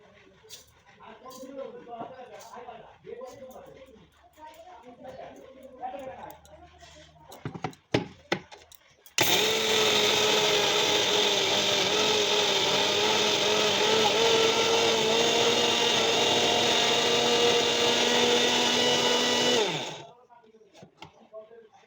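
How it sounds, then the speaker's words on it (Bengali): Soaked rice is ground to powder in an electric kitchen mixer for pithe: after some talk and clattering, the motor whirs at a loud, steady, high-pitched pitch for about ten seconds, then stops abruptly. "এখন এই চালটাকে গুঁড়ো করে নেব"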